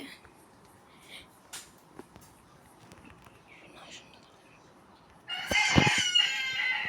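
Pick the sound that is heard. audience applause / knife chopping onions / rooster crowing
rooster crowing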